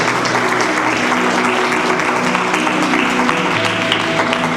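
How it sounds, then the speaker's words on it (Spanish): A church congregation applauds the Lord in loud, sustained clapping that fills the room, with faint crowd murmur underneath and no break in the sound. "Denle un aplauso grande al Señor"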